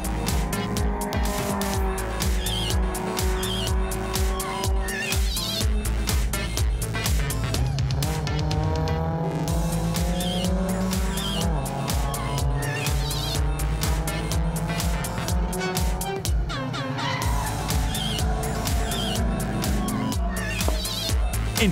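BMW and Alfa race cars battle side by side on a circuit, their engines a continuous loud roar with rising and falling revs and gear changes throughout.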